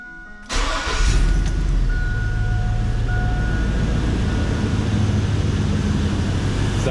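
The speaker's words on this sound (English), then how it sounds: "it's time to fire this vehicle on up to make sure that the AC works" A Chevy Silverado pickup cranks and starts with a sudden burst, then settles into a loud, steady idle rumble close by, with no talking.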